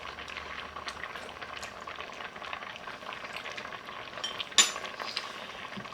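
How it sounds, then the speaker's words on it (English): Rice cooking in a pot on a stove gives a steady, soft bubbling simmer, close and continuous, with one brief sharper clink near the end. "Alright, so the rice has been cooking."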